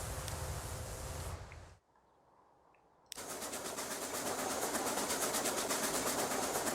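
Steady rumble of a train running in Transport Fever 2 on the White Pass Route, a loud continuous rolling drone with rhythmic clatter that cuts out briefly before returning at full strength.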